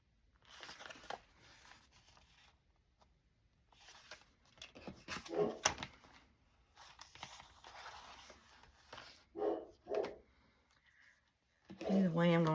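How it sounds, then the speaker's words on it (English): A dog barks in short loud bursts from a nearby room, excited after a desk is bumped, with the barks coming in separate clusters and someone talking in between. "now my dog's barking because I hit my desk"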